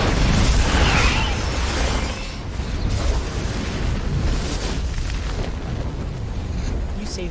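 A huge explosion erupts behind a moving cargo lift in Resident Evil 6, opening with a loud roaring blast that settles into a long rumbling, crackling roar with debris-like bursts.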